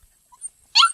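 A single short, high-pitched yip from a puppy, one of many young dogs in a rural village, sounds close and sharp after a brief near-silent pause.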